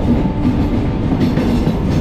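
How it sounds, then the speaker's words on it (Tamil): A commuter train pulls into a railway station in Chennai with a loud, steady rumble and the rhythmic clatter of wheels on the track, close by and with no talk. "இப்போ ட்ரெயின் உள்ள enter ஆகுறதாங்க light house railway station"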